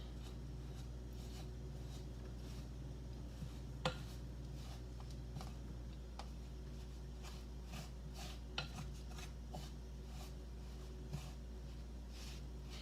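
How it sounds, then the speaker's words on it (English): Donut hole dough being stirred by hand in a bowl, with quiet scraping and occasional sharp clinks of utensil against the bowl over a steady low hum, no talking. "We're just going to keep mixing this until we have a nice dough"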